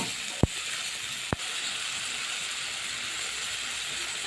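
A spice paste with Kashmiri chilli powder and turmeric sizzles in oil as it is sautéed for a methi-greens and pea dish, giving a steady hiss with two sharp clinks from the pan near the start.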